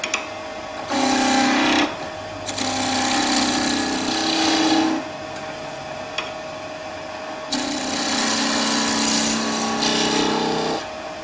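A skew chisel cutting wood, likely on a lathe, gives a close, loud, sustained shaving hiss in three long passes separated by short quiet gaps, with no talking.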